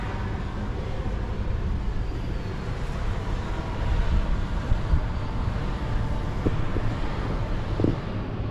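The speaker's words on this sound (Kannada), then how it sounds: "ಒಳ್ಳೆ ತಣ್ಣಗೆ ಗಾಳಿ" Cool wind blowing on the Seegegudda hilltop by a small Jade Muneeshwara Swamy temple near Hassan, a steady loud buffeting rush against the microphone with a few faint knocks, no talking.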